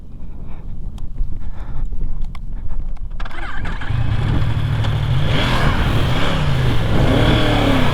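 A 2020 Yamaha R1M sport motorcycle starts up loudly and close by, its engine catching after a rough, scraping stretch, then settling into a steady, throaty idle with a few light blips.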